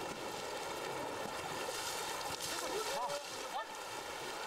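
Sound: splash of diving into the Rapti river with an elephant

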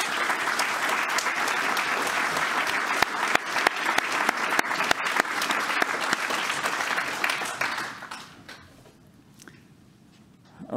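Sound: audience applause at a conference talk

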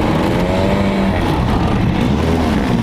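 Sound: motor boat engine running

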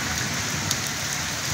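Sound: heavy rain in Chanu Chak village, Azad Kashmir

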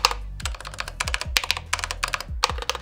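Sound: mechanical keyboard typing, rattling spacebar

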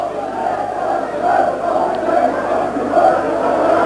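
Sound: football crowd on the terraces, scuffle

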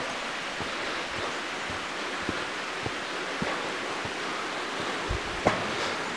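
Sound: waterfall at Salisbury Falls

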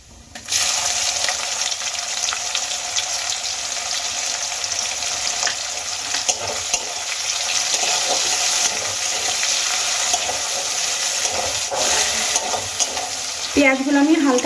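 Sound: chopped onion frying in oil

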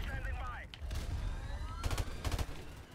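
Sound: M16 rifle gunfire in Call of Duty Modern Warfare Remastered video game

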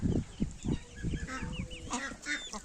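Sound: chickens and chicks clucking

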